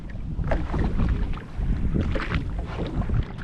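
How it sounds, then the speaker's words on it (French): Five or six boat engines rumble steadily on open water at dawn, with wind buffeting the microphone and occasional splashes, fairly close and continuous. "Voilà, les bateaux arrivent là."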